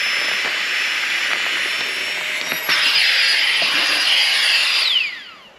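An electric pump inflating an Alpkit sleeping pad gives a loud, steady high-pitched whine that holds level for about five seconds, then cuts off and winds down quickly.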